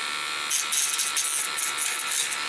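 A Dremel rotary tool grinds against a 3D-printed Godzilla figure, giving a steady high-pitched whine that rises and dips in short bursts as the bit bites into the plastic, close and alone.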